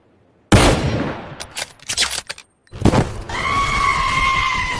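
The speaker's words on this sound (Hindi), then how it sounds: "अबे ये कहाँ मार दी गोली" A cartoon animation gunshot hits hard and suddenly, followed by a noisy crackling burst, a short gap, then a second blast that settles into a steady whining tone.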